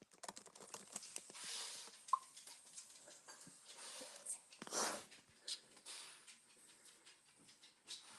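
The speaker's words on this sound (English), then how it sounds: "Just type really quick." Quick typing on a phone or keyboard right after a run, rapid irregular soft clicks and taps mixed with breathy hiss and rustling, fairly faint and close.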